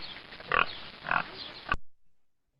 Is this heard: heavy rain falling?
no